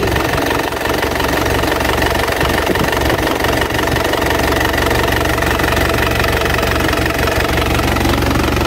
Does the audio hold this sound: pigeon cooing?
no